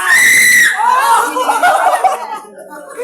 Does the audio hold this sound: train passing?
no